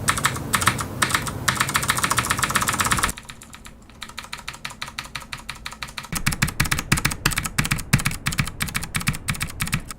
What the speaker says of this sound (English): here is the keycap with no dampener